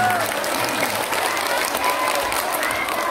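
Audience applause at an Islamic preaching gathering, a steady loud burst of clapping from a crowd throughout, with some voices mixed in.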